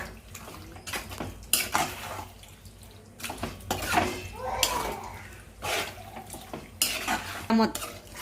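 Mutton curry stirred in a pot, with repeated scraping and clanking of a metal spoon against the pan in uneven bursts, close by and with no talk.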